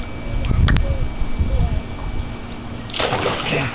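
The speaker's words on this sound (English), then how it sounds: "that was a big splash" A big splash of water bursts into a swimming pool near the end, loud and churning, after a stretch of quieter sloshing and background movement.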